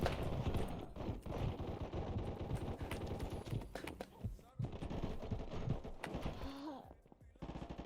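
Rapid gunfire in a video game, dense bursts of automatic shots and single cracks running nearly throughout, loud and busy with other game effects, fading briefly near the end.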